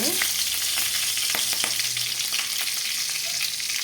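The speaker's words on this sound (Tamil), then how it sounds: "அதனால் நான் எண்ணெய் ஊற்றி இருக்கிறேன் ரெண்டு சீரகம் பச்சை மிளகாய் ரெண்டு" Cumin seeds and green chillies fry in hot oil, giving a loud continuous sizzle with a few crackling pops and a faint stirring scrape, close up with no talking.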